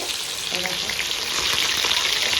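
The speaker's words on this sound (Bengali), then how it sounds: "এখানে চিকেনটা ফ্রাই হচ্ছে" Chicken frying in hot oil for biryani, a dense, loud, unbroken hiss of bubbling oil with faint spatters, heard up close with no clear talking.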